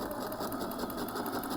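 A sewing machine backstitches the fabric of a scrunchie in a fast, even, steady whir, close and alone.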